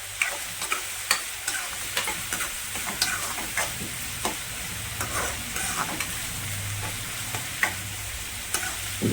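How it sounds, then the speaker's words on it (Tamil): Onions sauté in a pan for dried fish thokku, a low steady sizzle broken by regular scraping stir strokes and small clicks of a spatula, heard up close with no speech. "பாருங்கள், வெங்காயம் நல்லா வதங்கிடுச்சுங்க."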